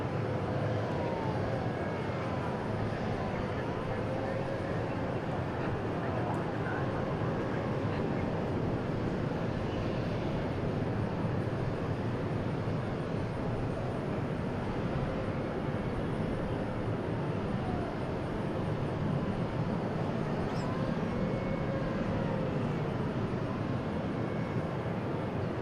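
A C-175 aircraft at DFW International Airport, bound for Amarillo, gives a steady, continuous engine roar with broad rumbling noise that holds constant and fairly close throughout.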